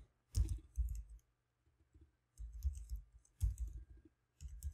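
Bursts of key clicks from a computer keyboard, typed in four short runs separated by pauses, close and fairly quiet with no talking.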